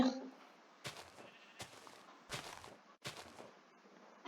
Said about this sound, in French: Allez, le mouton il va venir.